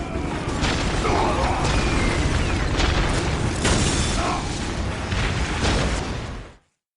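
Orbital bombardment from Dawn of War – Dark Crusade rumbles in as a sustained, loud wall of booming blasts, with several heavier impacts rolling through before the sound cuts off abruptly.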